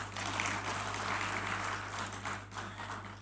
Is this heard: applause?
yes